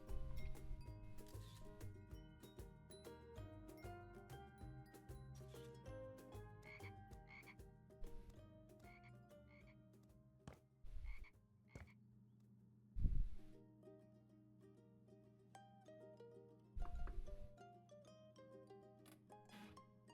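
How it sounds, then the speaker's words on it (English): Night ambience in the video game House Flipper 2, with dense frog croaking and chirping insect calls in a steady loop, broken by a few soft bumps and clicks. "you keep hearing like crickets and frogs"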